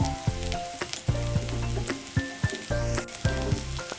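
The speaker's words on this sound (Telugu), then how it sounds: "సన్నగా పొడవుగా తరిగిన క్యాబేజీ వేసుకొని ఫ్రై చేసుకోవాలి" Shredded cabbage and mixed vegetables fry for vegetable fried rice, giving a loud, close, continuous sizzle broken by regular scraping stirs of a spatula in the pan.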